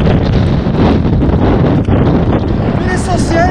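Strong wind buffets the microphone on a mountain trek route in the Spanish Pyrenees, a loud continuous rumbling roar with gusty swells, with no clear talk over it.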